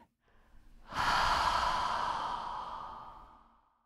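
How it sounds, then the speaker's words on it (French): A single long, slow exhale during a meditation, breathy and close, swelling quickly then tapering off over a few seconds after a faint intake of air. "Encore une fois, inspire. Expire."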